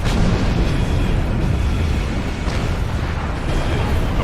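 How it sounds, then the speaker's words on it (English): Weapons fire and explosions from space combat in the video game Star Trek Online, a dense, loud, continuous roar of blasts and booms with no talk. "The Heralds are firing on the portal!"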